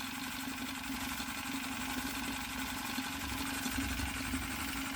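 A gas-fired Retrol EngineDIYshop SE-03 vertical steam engine runs at a steady pace, giving a quiet, even mechanical chuffing hum with no voices.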